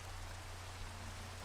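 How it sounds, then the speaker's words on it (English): Rain falling in Minecraft, a steady, even hiss of rainfall with a low constant hum underneath, brief and unchanging. "it's raining"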